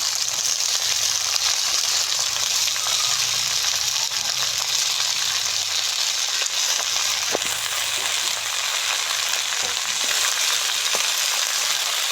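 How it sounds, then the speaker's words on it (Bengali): Bota shak leafy greens frying in a pan as they are stirred, a dense, steady close-up sizzle running throughout with occasional scraping and clicking from the stirring. "ভাজা হয়ে গেছে এখন এই যে শাকটা দিয়ে দিব"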